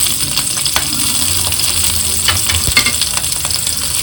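Green chillies fry in a pan with a loud, constant sizzling hiss and occasional stirring scrapes, close up and without talk.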